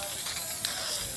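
Hydro dipping activator sprayed onto dipping film, a close, steady loud hiss that runs unbroken from start to end.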